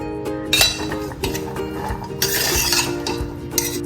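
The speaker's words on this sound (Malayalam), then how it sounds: "തക്കാളി, ഇഞ്ചിയും വെളുത്തുള്ളിയും ചെറുതായിട്ട് അരിഞ്ഞത്, പച്ചമുളക്, ഇതെല്ലാം കൂടി ഇട്ട് ഇത്തിരി ഉപ്പും ഇട്ട് ഒന്ന് നല്ലോണം മിക്സ് ചെയ്യാം" Chopped tomato, ginger, garlic and green chilli being stirred in a pan for kadala curry, with repeated close metallic clinks and scrapes of a spoon against the pan and faint sizzling, no talk.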